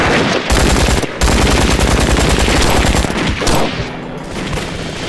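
Loud, sustained gunfire fired into the air in an anti-Japanese war film: rapid volleys of shots in long bursts with brief pauses between them, close and dominant.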